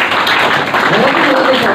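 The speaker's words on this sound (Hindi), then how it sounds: "अब इन सब लड़कियों के लिए लड़के अकेले तालियां लगाएंगे" Boys clap together for a group of girls at a school writers' workshop at DAV Public School, Patiala: a steady, dense wash of applause running throughout, with voices mixed in.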